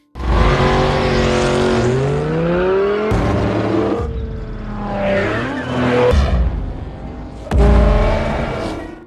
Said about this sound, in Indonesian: Saat itu Dom melihat mobil yang mencurigakan, lalu Dom pun mengejarnya